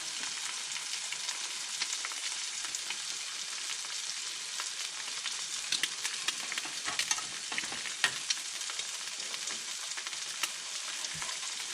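Eggs sizzling in a pan for eggs Benedict, a faint, steady, crackling fry with scattered small pops and no voices.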